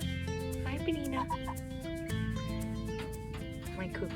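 Barnevelder hens clucking nearby in a backyard flock, with short, repeated calls rising over a steady background hum, continuing throughout.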